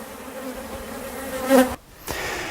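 Honeybees drone steadily on an open hive frame, a close, continuous buzz that swells briefly, cuts out for a moment, then resumes.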